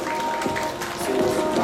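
Audience applause at a senior citizens' group performance celebration, a brief burst of scattered clapping from a crowd heard under a continuous tone and background noise.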